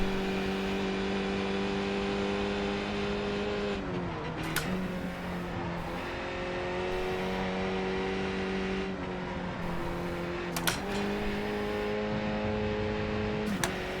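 A racing car engine in a sim racing game drones steadily at high revs, with quick upshifts that briefly drop and rebuild the pitch, heard alone at a moderate, even level.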